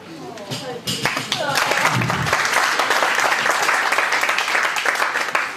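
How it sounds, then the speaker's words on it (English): Wedding guests at the speeches break into loud, sustained applause after a brief burst of speech, the clapping of a large room swelling and holding steady to the end. "I think that deserves a round of applause"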